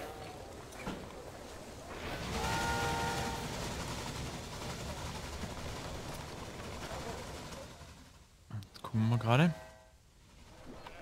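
A train running on a line near Yuma in Railway Empire rumbles steadily with a sustained horn-like tone building in the middle, then a short, sharp whistle blast near the end, with someone speaking over it.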